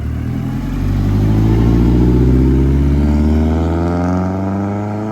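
A Lancia Delta HF Integrale revs its engine as it pulls away at the Wörthersee car meet, a loud, rising engine note that climbs steadily and holds close by, with no talk over it.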